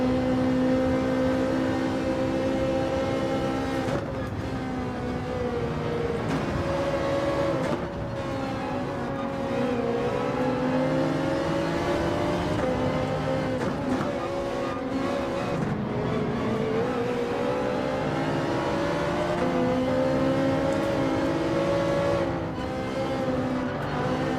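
Toyota Supra race car in Gran Turismo 7 at the Nürburgring, its engine droning steadily and loud throughout, pitch rising and falling through repeated gear shifts and revs, alone without talk.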